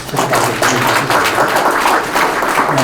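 Audience applause for past award winners at the 14th Im Jong-guk Award ceremony, a steady even patter of many hands clapping throughout, fairly loud and filling the hall.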